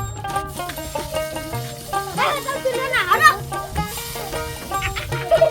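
Chickens cluck repeatedly, close by, at a rural village house surrounded by crop fields, with people talking over the birds.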